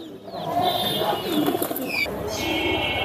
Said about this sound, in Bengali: এই জায়গায় আছে এক সেট গোল্ডেন কবুতর।